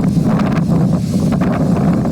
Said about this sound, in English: Crews battling winds of up to 100 miles per hour.